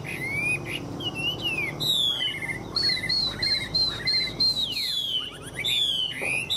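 Caged Chinese hwamei songbird singing outdoors in light drizzle, a run of loud, clear whistled phrases with rising and falling slurs and repeated notes, close and alone over faint background noise.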